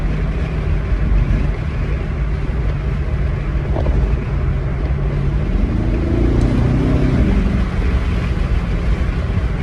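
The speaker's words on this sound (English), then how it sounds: "it gives you slightly louder exhaust with the bubbles" A Porsche Panamera Turbo engine rumbles loudly and close, its exhaust note crackling and climbing in pitch as it accelerates partway through.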